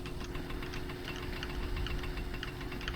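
A motorbike engine in the My Summer Car video game, a steady, rough idle with a ticking, knocking rattle that stays close and even throughout, with no talking.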